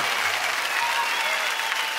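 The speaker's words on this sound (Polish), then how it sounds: "Wielkie brawa, Kostrzyńska Orkiestra Dęta." Festival crowd applauding a brass band on an outdoor stage, a dense, steady wash of clapping and cheering that fills the whole moment at close range.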